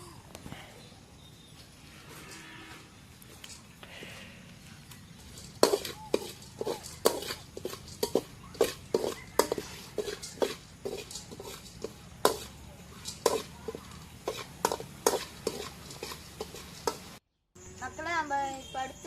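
Roasted gram (pottukadalai) being stirred in a pan for stuffed coconut: a quiet start, then a steady run of sharp scraping and rattling clicks from the spoon against the pan, fairly close and alone.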